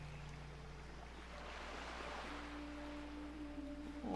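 Water lapping and waves washing gently in World of Warcraft Burning Crusade Classic, a faint steady ambient wash with a low hum underneath and no talk.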